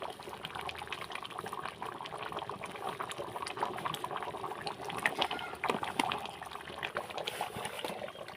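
A thick Eid sacrificial meat curry simmers in a pot, with quiet continuous bubbling and soft popping that rises briefly near the middle, close but faint, with no voices.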